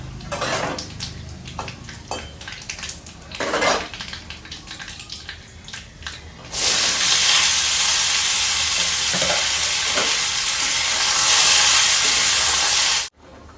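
Five-spice and dried chillies hit hot oil with a loud, steady sizzle that swells and holds for several seconds, preceded by quieter clinks and stirring in a home kitchen, then cuts off abruptly.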